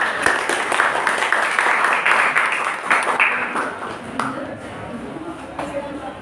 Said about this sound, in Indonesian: Tepuk tangannya dulu